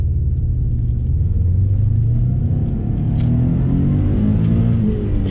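A JDM Subaru WRX engine revving hard in first gear and blowing past where the rev limiter should cut in, a loud continuous rising engine roar heard from inside the car.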